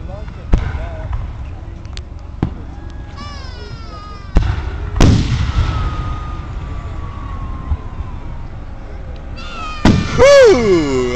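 Loud fireworks at a Fourth of July show, several heavy booms and crackling bursts, some distant and some close, with whistling rising trails and excited voices cheering between the explosions.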